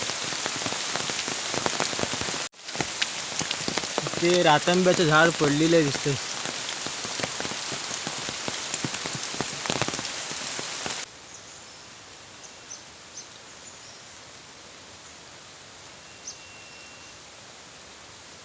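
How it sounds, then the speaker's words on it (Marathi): Heavy rain pours down in a forest, a dense, loud roar of drops on foliage and ground, with someone speaking briefly over it. Partway through, the downpour cuts to a much quieter, softer patter. "पाऊस पण जोरदार आलेला आहे."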